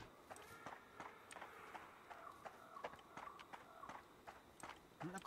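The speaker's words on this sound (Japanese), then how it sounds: "なんか足音聞こえるぞ。" Footsteps thud in quick irregular succession, clear and fairly close, through a tense stretch of the horror game Horrorfield, over a steady low background hum.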